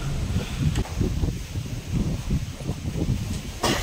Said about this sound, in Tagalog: Ang hangin.